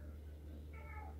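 Marty, a cat, lets out a single drawn-out meow over a steady low hum, close and moderately loud, with no one talking.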